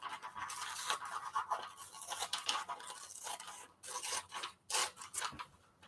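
Scissors snip and rustle through a glossy magazine page in repeated irregular bursts of crisp cutting and paper scraping, close and fairly quiet, with no talking.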